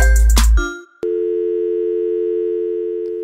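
A telephone line answers for a podcast hotline: a brief clatter of pickup, then a steady, continuous dial tone that holds loud and unbroken to the end.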